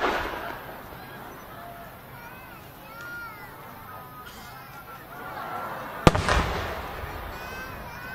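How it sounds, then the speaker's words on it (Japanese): A size 8 aerial firework shell at the Isehara art fireworks festival bursts with one sharp, loud crack that rings out afterward, under a male announcer's steady narration in Japanese. "色の芯の外側に錦色の大輪が華麗に花開きます。"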